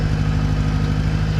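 A farm tractor idles nearby, a loud steady low engine rumble with an even throb and no change in pace across a short stretch.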